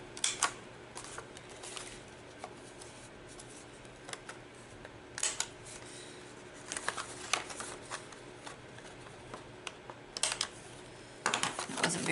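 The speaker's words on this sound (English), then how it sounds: "I'm going to get out my corner rounder and I'm going to round all of these corners" Sharp clicks and snips of a handheld corner rounder punch trimming the corners of paper card flaps, a handful of distinct crisp bursts spread unevenly across a quiet tabletop background, with a denser cluster near the end.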